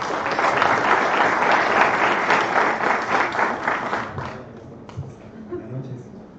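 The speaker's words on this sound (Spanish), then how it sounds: "Un aplauso para él." An audience at a nodeCo developer meetup at ITM claps to welcome a speaker, a dense round of applause that holds for about four seconds, then thins into a few scattered claps and small noises.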